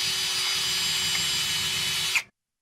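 A drill fitted with a rust removal attachment runs at a steady, loud, grinding whine for about two seconds and then cuts off abruptly.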